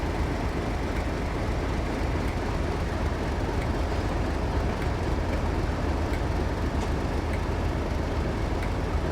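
A Class 58 diesel locomotive hauls a train along the Great Western Main Line in a train simulator game, with a steady broadband engine drone and rumble holding at constant loudness throughout.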